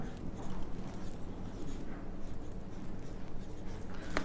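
Pen writing an account entry by hand on paper for a school accounting lesson, a continuous close scratching and scribbling under a dense, noisy background, with no clear speech.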